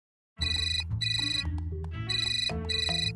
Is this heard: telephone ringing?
yes